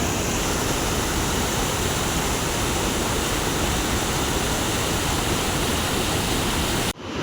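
Loud, steady roar of a waterfall behind Balaji temple at Someshwar, a tourist spot crowded with visitors, heard alone as continuous broadband rushing water close by, with a brief dip near the end.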